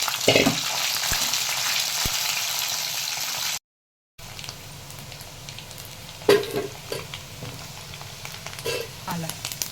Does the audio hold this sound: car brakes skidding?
no